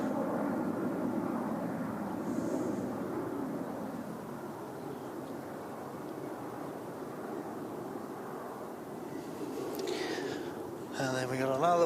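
A passenger jet departing Christchurch Airport, a broad distant engine roar rumbling steadily throughout, with faint bird chirps near the end.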